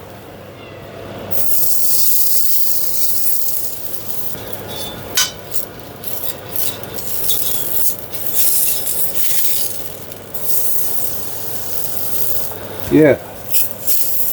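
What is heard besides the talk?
nutmeat patty sizzling as it cooks in a pan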